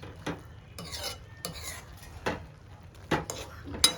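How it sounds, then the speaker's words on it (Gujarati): Maggi noodles being stirred in a pan over a lowered gas flame: a handful of brief scraping and clinking strokes at uneven intervals, close and moderately loud, over a soft, steady background hiss. "આપણે થોડીક હલાવી નાખીશું મેગીને"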